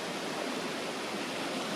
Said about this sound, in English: Stream just here too. It's a good water source.